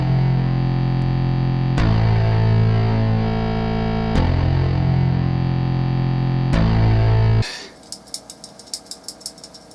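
Thick, distorted layered synth bass chords with an octave bass hold steady with sharp re-attacks every couple of seconds, then cut to a sparse, rattling rhythmic tail.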